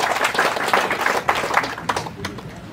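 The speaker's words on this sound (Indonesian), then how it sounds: "Mari kita berikan aplaus sekali lagi" At an anniversary ceremony of the Papua customary council in Wondama, a crowd claps in brisk, steady applause that fades slightly toward the end.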